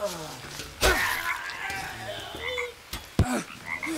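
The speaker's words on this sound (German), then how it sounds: "Das ist eine Kröte." A toad croaks in the jungle survival game Green Hell, a few bursts heard close among game effects, with a person talking over them.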